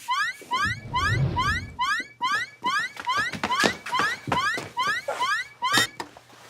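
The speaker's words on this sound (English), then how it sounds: "You set off the alarm." An electronic alarm repeats rapid rising chirps in a steady pulsing pattern, fairly close, with a low rumble and faint thumps underneath.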